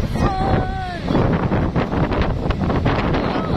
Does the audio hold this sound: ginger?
no